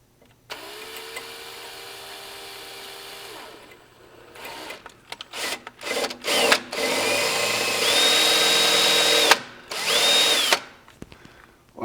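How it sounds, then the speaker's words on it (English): A power drill drilling out a cotter pin on a 1957 Oval VW whines in repeated bursts, starting and stopping, with a long steady run of high-pitched drilling near the mic. "What I'm trying to do is drill out the cotter."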